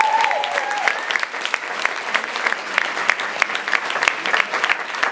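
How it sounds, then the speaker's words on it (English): A crowd at a community pride event in Marion, Ohio, cheers and claps for a championship team, with sharp overlapping claps and a brief whoop or whistle at the start. "One more big cheer for the Blue Racers."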